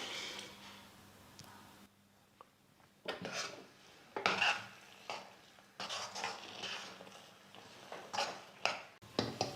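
Milk is being stirred into halwa cooking in a pan, heard as repeated scraping strokes of a spoon across the pan bottom, quiet and intermittent with short pauses between bursts and a faint sizzle.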